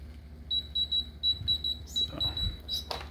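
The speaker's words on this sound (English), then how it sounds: "as we approach our end of our timer, I just unplug it because the timer is kind of annoying." A Hamilton Beach ST30 breakfast sandwich maker's timer alarm rings in rapid, repeated high electronic beeps, close and steady, ending with a few clicks and a handling knock as it stops.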